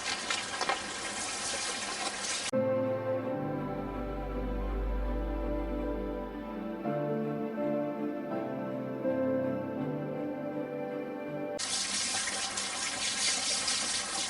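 Cold water pours from a tap while magnet fishing finds are cleaned, a steady broadband rush running loud and close, with a louder burst at the start and end and a low hum in the middle.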